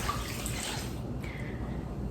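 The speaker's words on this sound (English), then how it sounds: "I'm going to put a little bit more water in there" Water poured into a pot for homemade bone broth, a close splashing, running pour that lasts about a second before trailing off into quiet.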